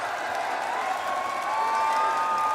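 A Brazilian crowd cheers and roars at a bodybuilding grand final in Rio, a dense, steady wall of voices that swells slightly louder toward the end.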